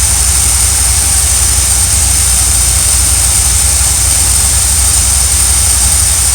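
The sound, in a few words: RV engine running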